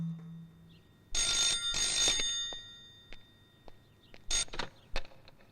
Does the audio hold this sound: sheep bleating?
no